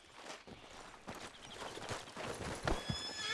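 A horse in Red Dead Redemption 2 gives a high, shaky neigh over steady clip-clopping hooves, both close and clear with no talking.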